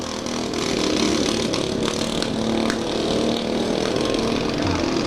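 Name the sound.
lawn mower engines running in a demolition derby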